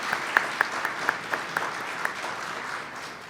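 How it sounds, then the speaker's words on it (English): Sparse, scattered applause from a lecture audience at a university event, a handful of distinct claps standing out over a soft broadband patter that thins and fades over a few seconds, with no talking. "So if we could give a round of applause to our sponsors"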